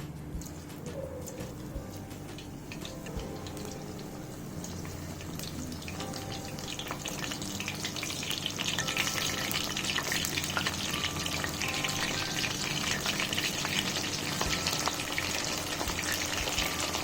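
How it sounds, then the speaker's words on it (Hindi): Soybean pakoras fry in oil in a kadhai with a soft, steady bubbling sizzle that grows slightly louder midway, mixed with faint clinks and water-like splashes. "इन पकौड़ों को भी मैं उसी तरीके से तल लूंगी जैसे मैंने पहले तले थे।"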